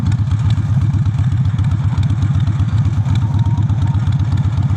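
A motorcycle engine idles close by, a loud, steady low throb of rapid, even pulses with a slight clatter running unbroken throughout, no talk.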